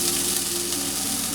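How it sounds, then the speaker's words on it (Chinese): Minced ginger sizzles in hot oil in a heated wok, a steady close frying hiss that carries on evenly for a moment with no talk over it. "锅烧热了以后，加油进来，先放姜末。"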